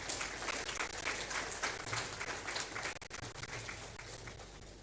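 Distant, steady applause from the audience at a Supreme Court anniversary lecture, a continuous wash of clapping that lasts several seconds and fades slightly toward the end.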